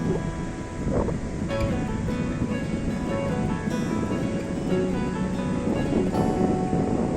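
Ocean waves roll in at the Lal Kankra beach in Mandarmani, a steady wash of surf with gusty wind buffeting the microphone and no talk.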